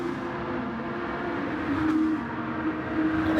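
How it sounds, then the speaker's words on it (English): Lamborghini race car engine in the Gran Turismo 7 racing game, a steady droning engine tone at constant volume, swelling slightly as the car slides through a corner at Tokyo Central, with no voices over it. "as he slides it round in the Lamborghini"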